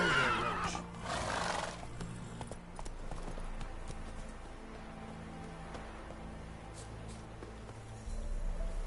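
Geralt's horse Roach in Witcher 3 gives a whinnying neigh near the start, followed by steady clip-clop hooves against a soft rain-like wash of game ambience throughout.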